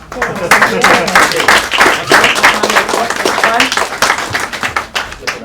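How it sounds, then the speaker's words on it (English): An audience at a meetup breaks into a round of applause, loud and close, with many hands clapping in a thick, uneven patter while voices mix in underneath. "I've got to give the leader a round of applause."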